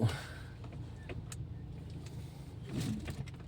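A car passes on a rainy road, a faint steady rumble of tyres and engine that swells slightly toward the end, with light rain hiss in the background.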